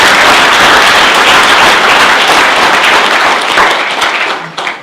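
Audience applauding the chief of police at a county economic event in Madera, a dense, loud, sustained wash of clapping that fades slightly near the end.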